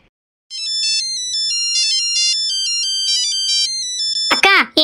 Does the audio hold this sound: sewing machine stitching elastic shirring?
no